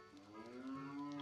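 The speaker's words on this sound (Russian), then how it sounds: "мы зашли в этот амбар, тут 2 коровы" A cow moos inside a barn in The Legend of Zelda: Ocarina of Time, one long, low, drawn-out bellow rising in strength, heard clearly with no talk over it.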